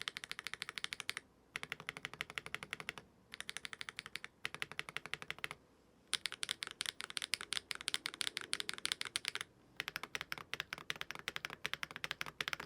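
Fast typing on a keyboard fitted with full metal keycaps, some keys swapped for plastic, giving dense bursts of close, bright clacks broken by short pauses, with no talking.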